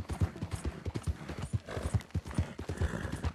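Horse hooves clip-clopping in a steady galloping rhythm in the video game Red Dead Redemption 2, close and clear, with a brief whinny-like sound partway through and no talk.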